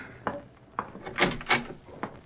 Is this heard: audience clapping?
no